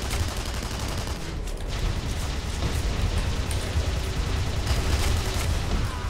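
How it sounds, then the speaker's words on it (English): Base turret firing in the online shooter Tribes Ascend during a Capture and Hold match on Outskirts, a dense continuous barrage of rapid gunfire and blasts with no talk. "now the base turret's shooting at me"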